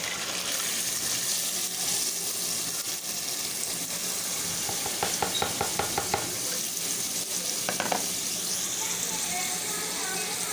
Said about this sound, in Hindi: ये देखिए मसाला भुन रहा है।